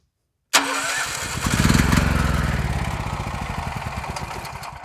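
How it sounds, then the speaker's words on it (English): Portable generator engine cranked and catching, firing into a loud, rough, close running rattle that holds steady after a brief silent start, with no talking. "Just pulled out the generator. I'm going to crank it up."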